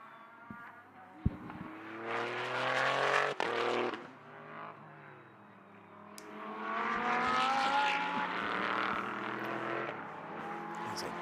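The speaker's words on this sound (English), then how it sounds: "Great sounding V6" A Maserati GT3 race car with a V6 engine races past during a sprint cup race at Paul Ricard, its loud engine note rising and falling twice as it passes, with commentary talk faintly beneath.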